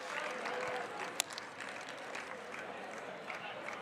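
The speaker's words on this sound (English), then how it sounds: "So a massive round of applause for him anyway" Scattered outdoor crowd applause for a race prize winner at a half marathon, fairly faint and distant, with a broad wash of clapping and crowd murmur throughout.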